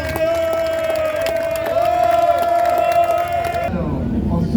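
Crowd cheering at the King Of Tracks Harley Days event in Morzine, a loud sustained roar of voices with a strong whistle or horn tone on top before it cuts off abruptly.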